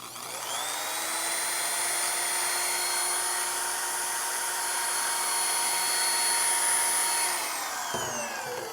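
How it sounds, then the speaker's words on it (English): A small electric drill, plugged into an EBL 500W mini power station, whines steadily at high pitch for several seconds, then spins down abruptly near the end. "I've got this little drill plugged in here."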